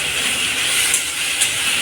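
Capsicum sautéing in a hot pan for street-style Hakka noodles, a loud continuous hiss and sizzle with a couple of brief sharper spikes.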